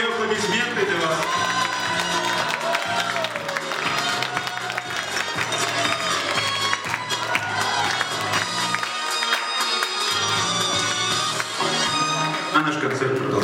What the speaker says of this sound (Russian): Все аплодисменты для вас.